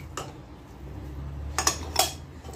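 Sugar and egg being mixed in a bowl for a cake batter: a few sharp clinks of a utensil against the bowl between quieter scraping, up close with no talking.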